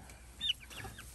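A hen clucking on grass, one short quiet cluck followed by faint soft murmurs in a calm outdoor setting.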